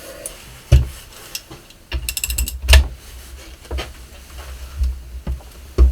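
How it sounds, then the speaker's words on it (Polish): Ratchet driving bolts of a case splitter to separate the halves of a Jawa Mustang P23 motorcycle engine case: bursts of rapid metallic clicking with clanks and knocks between them, close and fairly loud in a workshop. "I teraz wkręcając te śruby, będziemy sobie to rozpoławiać."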